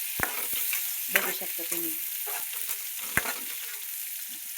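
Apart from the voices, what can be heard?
onion and curry leaves frying in a pan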